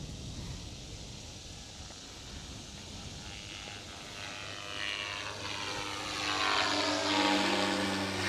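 An RC Airwolf model helicopter flies overhead, a faint, steady rotor whir and motor hum that swells gradually as it draws nearer.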